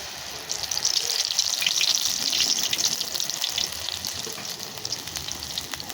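A hot murukku mould sizzles in heated oil in a pan, a bright crackling hiss that swells after a moment and holds steady, close up, with no talking.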